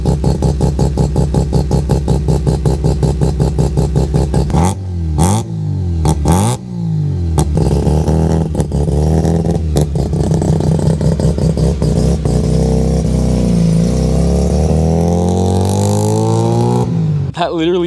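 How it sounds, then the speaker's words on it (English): A Mazda 1300 with a 13B bridgeport rotary engine fires up and revs hard, its loud, choppy idle broken by sharp blips of throttle, then settling into a lumpy, rising and falling drone close by. "start this thing up, listen to the gorgeous 13B Brappy sounds that are going to come out of this thing"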